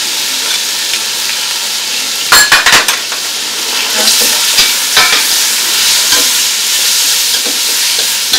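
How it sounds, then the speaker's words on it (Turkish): Steady frying hiss with scattered clinks and scrapes of a utensil stirring lamb and onion sautéing over low heat in a pan; no talking. "Kısık ateşte kuzu etleri suyu çekinceye kadar kavuruyoruz"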